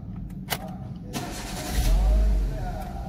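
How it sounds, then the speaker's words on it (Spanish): A Renault car with a key card push-button ignition starting up: a few clicks, then the engine cranks and catches into a low, rumbling idle close by. "Cuando yo presione acá, el vehículo debería de arrancar o debe de arrancar."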